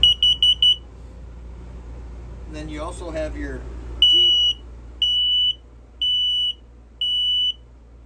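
An LP carbon monoxide detector alarm in a 2024 Palomino Real-Lite HS-1806 truck camper beeps in short high-pitched bursts, a quick cluster at first, then regular spaced beeps after someone speaks briefly.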